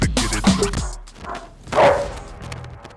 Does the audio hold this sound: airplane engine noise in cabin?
no